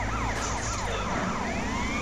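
Police siren wailing in GTA San Andreas, its rising and falling tones sweeping loudly over a steady engine and road rumble from a car in poor condition, continuous for the whole stretch.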